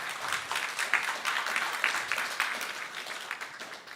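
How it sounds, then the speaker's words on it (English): An audience claps for a presenter at a plant-based meat and cheese substitute cooking demo, a steady, moderately loud round of applause with dense overlapping claps that holds for several seconds and eases slightly at the end. "let's give a round of applause to Pauline."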